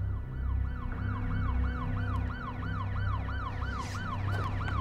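A police siren wails in a drama scene, a steady, rapidly repeating up-and-down electronic tone over a low vehicle rumble, loud and continuous.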